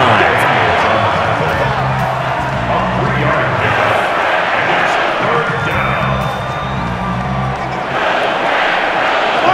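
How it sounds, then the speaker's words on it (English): Stadium crowd noise from the Madden NFL 20 video game, a loud, steady roar and murmur of fans building ahead of a big third down in a Chiefs versus Packers game, continuous throughout and filling the whole scene. "the crowd getting into it as we come up on a big 3rd down"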